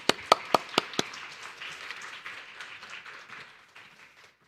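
A church congregation welcomes the pastor with a few loud, distinct claps, then a softer, scattered round of applause that fades away over a few seconds.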